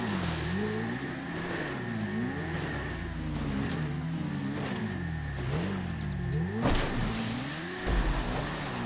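Motorbike engine in the GTA V video game, a revving, rising-and-falling whine that surges repeatedly and stays steady and close, with a couple of thuds near the end.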